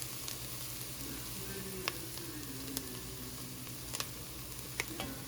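Turmeric is stirred into a frying Afghani mantu filling in a pot, a quiet steady sizzle beneath occasional soft spoon scrapes and taps against the pot.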